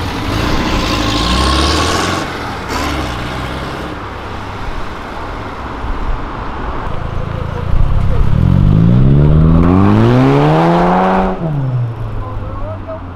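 A Mitsubishi Lancer Evo 9 idles nearby, then its engine revs hard, climbing and falling in a loud sweep before settling back. People talk over the idle.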